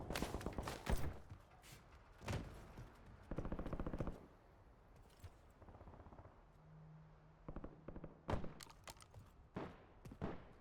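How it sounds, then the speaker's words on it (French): Machine gun fire in Call of Duty Warzone, short bursts of shots that are mostly distant and fairly faint, scattered across the stretch with quiet gaps between them. "J'entends des balles fusées."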